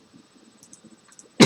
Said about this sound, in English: Sorry, I'm just coughing here.